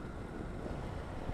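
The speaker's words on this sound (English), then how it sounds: "it's quite a windy day," Wind roaring into a helmet-mounted microphone while riding a BMW F800GS motorcycle with a tall screen on a windy day: dense, loud, continuous buffeting hiss that never lets up across the short stretch.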